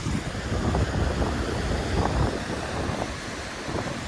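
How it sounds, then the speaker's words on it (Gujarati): Sea waves rolling onto the rocky shore of Porbandar beach under a cold wind, a loud continuous surf roar mixed with heavy wind rumble across the microphone, with no voices. "અને આ બાજુ તો મોજા વધુ ઉછળે"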